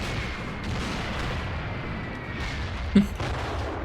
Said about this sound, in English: Oh, look at all these artillery rounds.